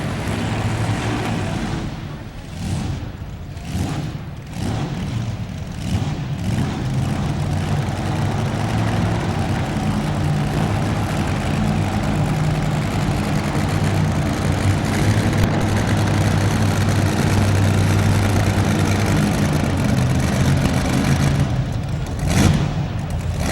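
A Kelly Chevrolet two-wheel-drive pulling truck sits at the starting line of a 1993 NFMS truck pull in Louisville, Kentucky, its heavy engine rumbling and idling steadily and loudly for the whole stretch, with a few brief throttle blips early on.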